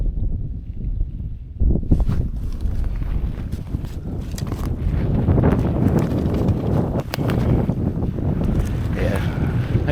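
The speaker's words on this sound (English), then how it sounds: "Getting into the wind again." Heavy wind buffets the microphone outdoors on public ground during a spring mushroom hunt, a loud steady roar rising after a brief quieter moment and continuing throughout, with no voices.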